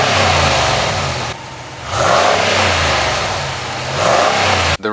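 A 2017 Ram Rebel Mojave Sand Edition pickup's V8 engine revs loudly, rising in pitch, dropping back to idle, then surging again in two close, throaty bursts before cutting off.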